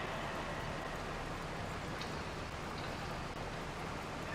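Rain in the farming video game Farming Simulator 25, a steady, even hiss of falling rain that continues unbroken at a soft, constant level with no voices.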